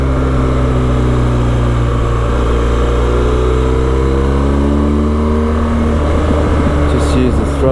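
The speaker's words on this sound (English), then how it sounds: "Pick up now on the throttle." A vehicle engine hums loud and close while driving Lavers Hill-Cobden Road, its pitch sliding up and down as the throttle eases off and picks up again.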